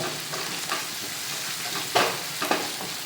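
A lentil and green plantain curry mixture is stirred in a pan, with a steady soft sizzle and a few brief, louder scraping strokes from the spoon near the end.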